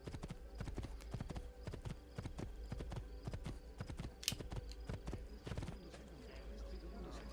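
Horse hooves clip-clop at a steady trotting rhythm in the video game Assassin's Creed II, a clear run of hollow knocks over a soft background, with a brief higher squeal midway.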